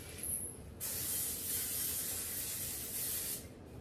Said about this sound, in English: And I have my Pullman loaf pan here that I'm going to spray.